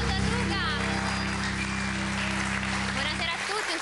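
A studio audience on an Italian post-match football talk show applauds in a steady, rain-like wash of claps under overlapping speech, fading near the end.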